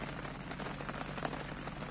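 Heavy rain pours down during a carp fishing trip, making a steady, dense hiss of drops drumming on surfaces. The rain is constant and fairly close, with no talking.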